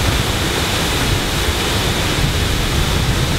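A waterfall on Jeju Island roars as a dense, steady rush of falling water, loud and close, with no voices over it.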